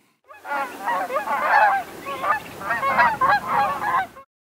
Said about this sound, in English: Thousands of ducks and geese are banded across Idaho each year